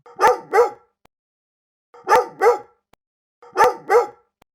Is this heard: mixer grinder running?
no